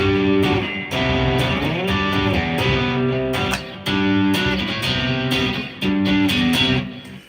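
Guitar playing a song, close and steady with repeated chord phrases and brief dips between sections, no voices.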